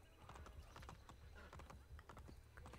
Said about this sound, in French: si vous avez peur d'un pauvre cheval qui va au galop